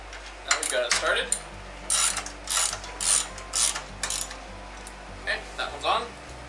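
A socket ratchet clicks in short bursts while turning a bolt during a COM-8 to Holme 3-2-3 conversion, close, crisp pawl clatter coming in repeated quick strokes over a low steady hum.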